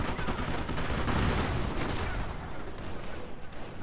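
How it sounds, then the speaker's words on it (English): Heavy gunfire in the strategy game Company of Heroes forms a dense, rumbling wash of distant shots and blasts that thins toward the end, with no clear speech. "The medics at the church report heavy fire!"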